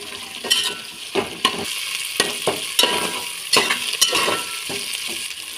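Spices and ginger paste fry in a pan, a steady close sizzle broken by repeated scraping stirs in a loose rhythm, no one speaking.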